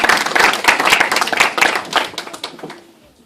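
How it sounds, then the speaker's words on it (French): A church congregation claps together in a dense burst of applause that tapers off over a few seconds. "Let's clap for the word of God."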